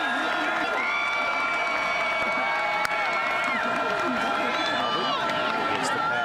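Steady, distant roar of a large football stadium crowd during a college game, Liberty at Jacksonville State, sustained noise with whoops and shouts continuing throughout under a commentator's voice.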